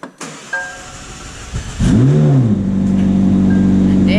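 A McLaren Elva hypercar fires up: a short electric whir and clicks give way to the starter catching and the engine bursting into a loud rev that falls back to a steady, rumbling idle.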